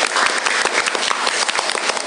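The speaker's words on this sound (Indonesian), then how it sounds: "Tepuk tangan untuk kalian semuanya." A classroom of students claps together for classmates after their group presentations, a brisk, loud burst of many hands slapping in quick irregular rhythm that carries on without pause.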